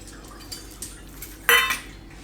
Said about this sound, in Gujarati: કેપ્સિકમ છે એને આપણે ઝીણા ઝીણા ટુકડા કરી લેવા